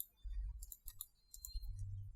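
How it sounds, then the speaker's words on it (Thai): Laptop mouse on an ASUS R510Z being clicked, a handful of quiet, sharp clicks in quick irregular bursts against near silence. "คลิกซ้าย คลิกขวาได้นะครับ"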